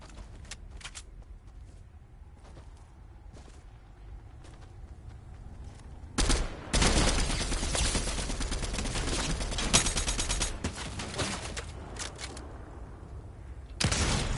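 Sniper rifle shots ring out in the video game Fortnite as a few loud, sharp blasts with lingering noise after them, set against quieter game sounds in between.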